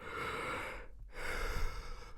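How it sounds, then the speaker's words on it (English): Close by, a person yawns: a long, breathy drawn-in breath, a brief pause, then a drawn-out exhale, with no talking. "I'm yawning just thinking about this movie"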